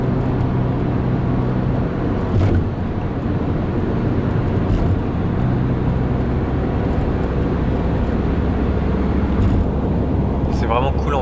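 Inside a vehicle rolling along a road in Nagasaki, a constant low engine and tire drone fills the cabin, steady and unbroken with a few faint bumps.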